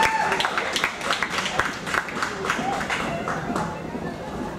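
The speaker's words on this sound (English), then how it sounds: "Let's have a nice round of applause for these competitors." Applause from the audience at a ballroom dance competition, a moderate crowd clapping in a large room with scattered voices and murmur running through it.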